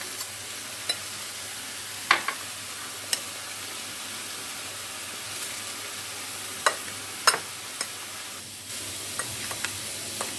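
Potatoes stirred with cream in a pan, a soft steady sizzle with sharp scraping clicks of a spoon against the pan at irregular intervals, close and fairly quiet, no talk.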